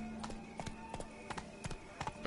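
Roach the horse galloping in The Witcher 3, a steady run of clip-clop hoofbeats in quick pairs, close and clear over a low game ambience.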